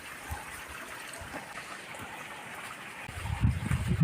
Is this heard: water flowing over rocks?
yes